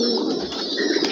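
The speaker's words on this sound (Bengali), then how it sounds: "প্রত্যেকটা রুমে 150 করে কবুতর আছে আমার।" Pigeons cooing together in a room of a pigeon farm holding about 150 birds, a steady, dense, low murmuring coo from many birds close by.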